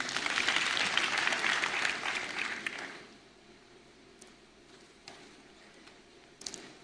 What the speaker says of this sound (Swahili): Wapigie makofi wale.